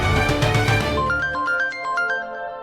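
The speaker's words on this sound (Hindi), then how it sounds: "अरे जीजा जी का फोन" A phone ringtone plays loudly and alone, a synthetic melodic tune of repeated rising electronic notes after a dense musical opening, from a Hindi TV serial scene.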